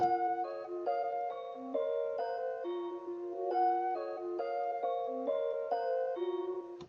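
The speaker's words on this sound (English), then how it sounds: "I added one little synth in the background to it, but it sounds like this." A plucked, bell-like synth melody steps through short bright notes in a steady rhythm, clean and upfront with no voices.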